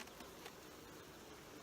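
A busy swarm of bees hums inside an opened beehive at a July inspection, a continuous close buzzing drone with no talking, brief and quiet.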